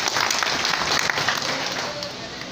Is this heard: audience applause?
yes